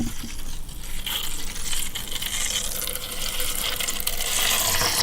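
Water gurgles and trickles continuously through a coffee machine, a steady splashing flow close by with no talking.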